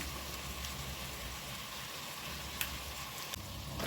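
Continuous crackling sizzle of vegetables frying in a pan for bean soup, steady and close, with a couple of brief clinks.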